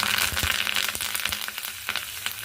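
Urad dal, mustard, chillies and curry leaves frying in hot oil for a tempering, a dense steady crackling sizzle with sharp pops and occasional stirring scrapes throughout, close and fairly loud.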